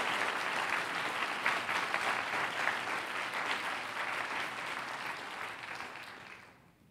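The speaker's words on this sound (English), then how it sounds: "Round of applause for these students as well" Applause for students at a school board meeting: a steady, even round of clapping from a seated audience that holds for several seconds and then tapers off at the end.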